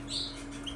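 A goldfinch and canary hybrid bird gives a few faint, thin, high chirps over a steady low indoor hum, with no voices.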